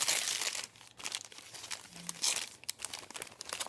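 A paper-wrapped parcel is cut open and unwrapped, with close crinkling and crackling of paper in bursts and brief tearing sounds between quieter moments.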